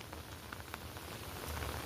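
Steady rain falling during a heavy downpour in Surat, a faint continuous patter of drops on surfaces with no other sounds.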